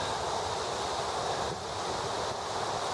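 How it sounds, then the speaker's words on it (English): Wind blowing through autumn woods in northern Rhode Island, a steady, broad rushing hiss with no breaks, fairly soft and constant throughout. "Wind's picking up."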